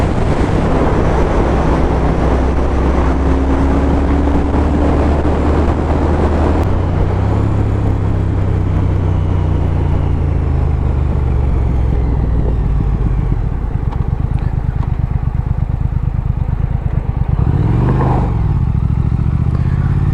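A Triumph Thruxton R motorcycle engine pulls at low revs, around 3,000 rpm, in slow traffic, a loud steady onboard rumble with shifting harmonic tones and wind buffeting throughout.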